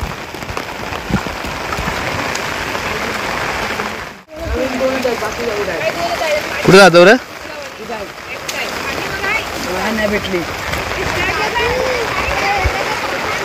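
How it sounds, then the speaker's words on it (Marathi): Steady rain falls outdoors beside a rice field during traditional Konkan paddy transplanting, a dense continuous patter close by and fairly loud, with people talking and calling out over it. "तर मंडळी पाऊस पण आलाय."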